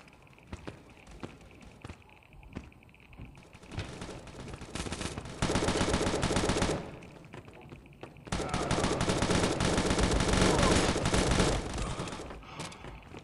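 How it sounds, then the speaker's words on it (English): Automatic weapon fire in the Modern Ops mobile shooter game: scattered taps and single shots build into two long, dense, loud bursts of rapid machine-gun fire, with a brief pause between them and no voices. "I'm shooting."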